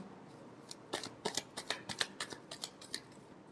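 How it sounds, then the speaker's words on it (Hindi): A deck of tarot cards being shuffled, a quick run of soft papery riffles and flicks close by, ending in a few separate snaps of cards. "Last shuffle."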